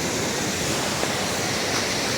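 A mountain stream on the Annapurna Base Camp trek between Bamboo and Deurali rushes steadily, a dense, even wash of water with no breaks or voices.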